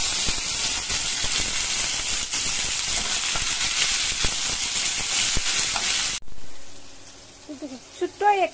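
Dal cooking in a pot on the stove hisses and sizzles steadily and loudly with stirring clatter, then drops off abruptly to a quieter simmer as chopped tomato goes in. A voice follows briefly.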